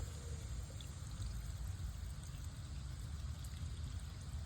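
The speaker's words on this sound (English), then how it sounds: "There goes all that water" Water drains from an above-ground pool's bottom drain line into a strainer basket during winterizing, a steady continuous pour and trickle, fairly close and unbroken, with no talk over it.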